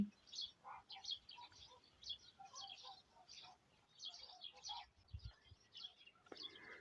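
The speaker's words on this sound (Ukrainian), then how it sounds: "на цій старій яблуні он дупло, там оселилися шпаки" Starlings nesting in the hollow of an old apple tree in a blossoming rural garden give repeated short chirps and whistles, faint and somewhat distant, over a quiet outdoor background.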